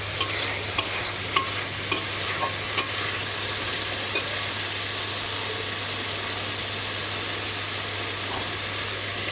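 Spice masala stirred and fried in a pan: a steady soft sizzle with a low hum beneath, and a spoon scraping and clicking against the pan several times in the first few seconds.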